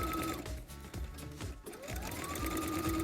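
A Brother CS7000i sewing machine runs a joinery stitch on a cowboy hat, its needle whirring steadily and close up, with brief slowdowns and pauses between bursts.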